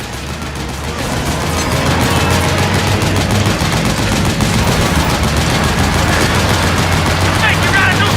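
Sustained rapid gunfire while shooting at a gate in Metal Gear Solid 4: Guns of the Patriots, a loud, dense stream of shots running almost without pause after a short build-up, with shouting voices mixed in.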